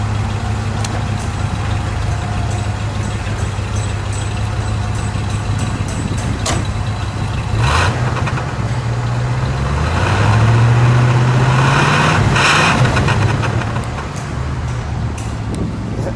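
A 1979 Lincoln Continental Mark V with its 400 V8 idles with a deep, steady rumble, recorded right up close at the exhaust, then gets a few brief throttle blips around the middle that swell the low growl before settling back to idle.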